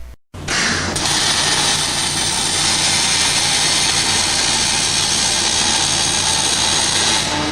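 A MIG welding torch runs on aluminium plate, starting abruptly after a brief silence and then holding a loud, steady crackling hiss that continues unbroken to the end.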